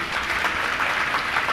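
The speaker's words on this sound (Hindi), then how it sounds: "जोरदार तालियां बजाओ।" An audience at a Jain religious discourse by Praman Sagar Ji Maharaj breaks into applause, a steady, moderately loud wash of many hands clapping that continues evenly throughout.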